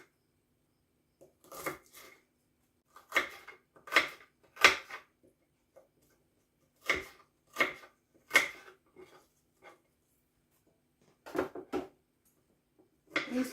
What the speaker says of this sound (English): These onions I'm not going to cut tiny either.